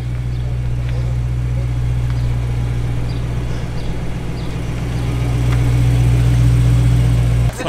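Naturally aspirated V8 of a BMW M3 idling steadily with a deep, even burble, close and loud throughout, its level rising slightly near the end, with no speech over it.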